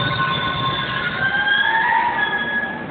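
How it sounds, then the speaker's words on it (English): An MBTA Red Line subway train rumbles closer through a tunnel at Harvard station, with screeching metallic wheel squeals sliding in pitch over a low steady roar. "The train is coming from the tunnel."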